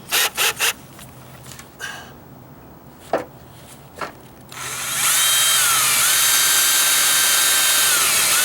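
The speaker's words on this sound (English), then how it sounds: "I'm going to start out with like an 1/8 inch" A power drill with a 1/8 inch bit bores into deck wood, preceded by several short handling knocks and clicks, then a loud steady whine running continuously up close.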